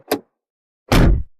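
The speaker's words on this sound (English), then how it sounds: "Then he opened the taxi door." An old taxi cab door being handled: a short thunk, then after a pause a louder, heavier clunk with a rumbling tail, both close and clear with no talking.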